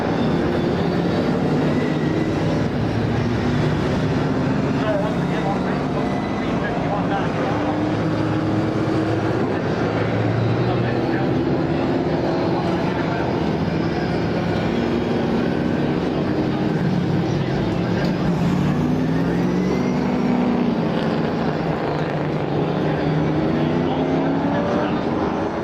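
Race cars roar continuously around the Star Speedway track during a GSPSS feature, a loud sustained engine drone with rising and falling pitch as the field passes.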